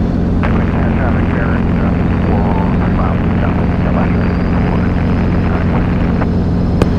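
Robinson R22 helicopter in flight during autorotation training, its steady loud rotor and engine drone running continuously throughout, with voices talking over the cabin noise.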